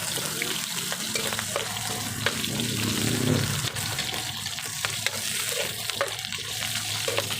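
Pork fat and meat fry in a pan with a steady close sizzle, stirred repeatedly with scraping strokes and small clatters throughout, no talking.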